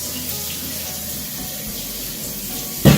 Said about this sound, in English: I'm going to start my water on here, so it's going to probably mess with your sound. Let's just give these a quick rinse.